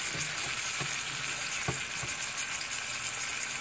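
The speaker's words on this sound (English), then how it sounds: "Let the tomato cook a little bit," Tomato with cumin and garlic ginger paste sizzles steadily in an Instant Pot, a close, even hiss broken by a few soft knocks of stirring.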